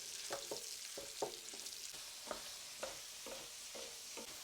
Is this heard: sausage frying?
yes